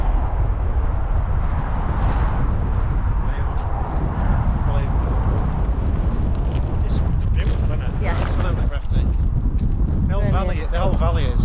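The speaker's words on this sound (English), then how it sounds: "It's windy, very windy." Strong gusting wind buffeting the microphone in the Glencoe valley in Scotland, a loud constant low roar and rumble throughout, with people talking over it.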